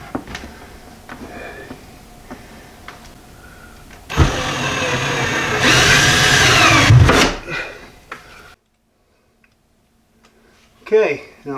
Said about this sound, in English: Okay, now I'll run the second screw in.